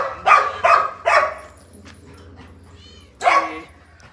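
A dog barks several times in quick, high yips, pauses with faint whimpering, then lets out one more sharp bark nearby.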